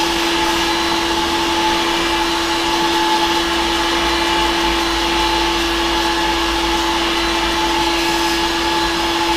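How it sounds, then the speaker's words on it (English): Heat gun blowing hot air onto plastic, a continuous close whooshing drone with a steady high whine and no breaks. "can get an idea of how long I'm actually holding the heat gun on"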